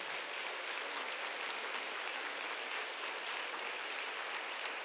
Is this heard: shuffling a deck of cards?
no